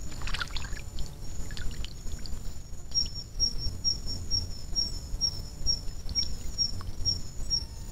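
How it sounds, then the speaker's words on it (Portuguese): Night crickets chirp in steady repeated trills against a dense backdrop of outdoor insect and ambient noise, with occasional other calls, no speech. "a sinfonia fica por conta dos grilos noturnos"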